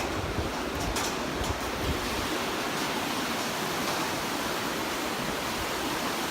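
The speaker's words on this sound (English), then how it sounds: "Here's the Colorado River carving the bottom of the canyon." A steady, broadband rush of the Colorado River flowing through the Grand Canyon fills the scene, constant and fairly loud, with faint wind buffeting the microphone now and then.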